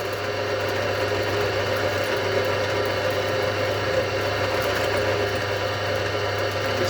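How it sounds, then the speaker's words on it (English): A drill bores string holes through a Strat guitar body in a late-'60s style build, giving a continuous steady whirring hum with no breaks, close and fairly loud. "It's just so important to get the drill going through there."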